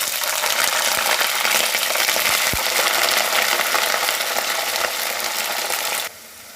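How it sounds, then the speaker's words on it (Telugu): Half a kilo of cut cauliflower frying in hot oil, a loud, steady hiss and crackle that fills most of the clip and then drops suddenly to a quieter simmer. "ఇదే ఆయిల్లో కట్ చేసి పెట్టుకున్న 1/2 కిలో కాలీఫ్లవర్ని వేసుకోవాలి"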